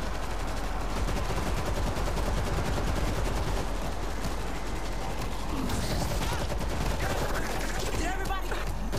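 Machine gun fire in the zombie shooter World War Z, dense continuous bursts of rapid gunfire filling the whole stretch at high volume, with chaotic in-game effects layered on top near the end.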